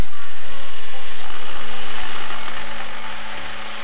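Mini 4WD tyres being sanded down with a powered tool, a loud continuous grinding rasp held steady at close range before easing off slightly toward the end.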